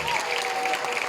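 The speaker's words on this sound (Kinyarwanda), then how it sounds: "Birakwiye amashyi" Guests at Gedeo and Divinne's wedding celebration applaud in a short, lively burst of dense clapping, with a faint voice or whistle over the crowd.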